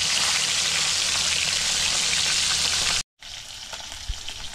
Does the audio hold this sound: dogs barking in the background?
no